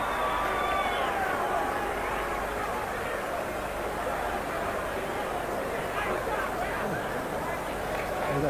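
Boxing arena crowd reacting with disapproval, a dense continuous roar and babble of many voices filling the space at steady loudness, with scattered shouts rising out of the mass.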